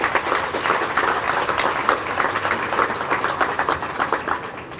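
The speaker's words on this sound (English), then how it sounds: "Let's give her another round of applause" Sustained crowd applause at a Cape Verdean flag-raising ceremony: a thick, continuous patter of many hands clapping, fairly loud and even throughout, with no speech on top.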